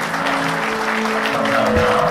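Warm applause for the bride and groom fills a wedding hall at the Conrad Hotel, a steady dense clapping from the guests throughout, with faint musical tones beneath.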